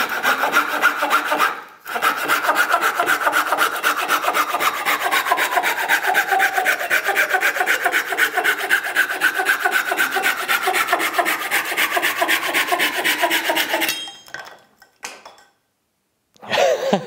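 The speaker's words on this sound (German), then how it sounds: "Wir sägen also durch alles irgendwie durch." A folding Japanese pull saw rasps rapidly through plywood in fast, even strokes, loud and close, stopping briefly near the start and again near the end after the cut finishes.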